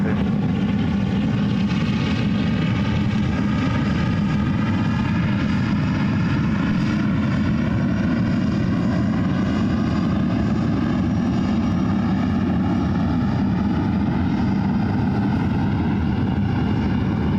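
A Cathay Pacific airliner taxis out toward runways 28 at San Francisco International Airport, giving a steady, continuous engine drone with a low rumble and faint tonal whine that holds evenly throughout, fairly close, with no voices.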